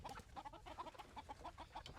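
Silkie and Polish chickens on a homestead cluck in quick, continuous overlapping bursts, a soft, busy flock chatter heard close but fairly quiet, with no talking.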